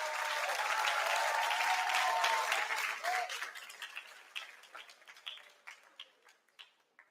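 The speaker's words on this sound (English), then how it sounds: "Big round of applause, ladies and gentlemen, for SK Sri Bintang Utara." Audience applause at a national ICT security discourse grand final, a full burst of clapping that fades after three seconds into sparse, individual claps trailing off.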